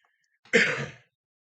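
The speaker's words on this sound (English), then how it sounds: "That's why I keep coughing." A single harsh cough from a person with bronchitis, close and fairly loud, lasting about half a second amid silence.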